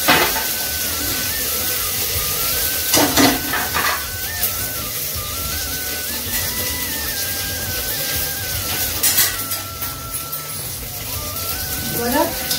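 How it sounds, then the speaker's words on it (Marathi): Paneer pieces fry in a new steel kadai with a steady sizzle throughout, broken by a few clinks and stirring scrapes, while someone talks over the cooking. "मी आता थोडंसं तळून घेते"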